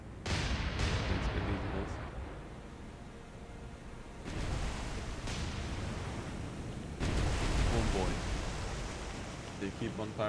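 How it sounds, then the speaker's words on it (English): Naval gunfire in War on the Sea, heard as shells landing around a ship, comes as three heavy, rumbling bursts spaced a few seconds apart, each a sharp onset fading into a long, noisy wash. "They keep on firing around me."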